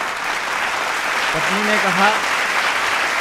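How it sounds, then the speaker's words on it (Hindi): Applause from the audience at a Hindi poetry recital (kavi sammelan) in Hardoi, a steady, loud wash of clapping, with a voice briefly speaking over it midway. "आपका आदेश हो तो एक बार तालियां बजा दीजिए"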